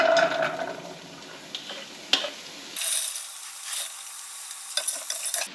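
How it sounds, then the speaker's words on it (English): Mixed vegetables hit a hot pan with a little oil, giving a steady crackling sizzle that jumps louder midway as more pieces go in, with occasional scrapes and clatters of stirring close by. "Now that my pan is hot, I am going to toss in all of the veggies first."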